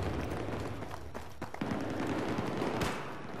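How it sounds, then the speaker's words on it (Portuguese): Battlefield 3 gunfire and explosions roll together in a busy firefight: rapid bursts of shots, several sharp cracks and a big blast near the end, loud and close, with no voices over them. "eu tô ouvindo bastante explosão, cara"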